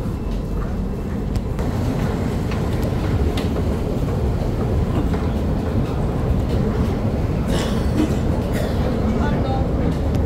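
Busy underground metro station in Istanbul, trains rumbling and rolling along the track with steady clatter, a constant loud low roar throughout, and people talking faintly under the noise.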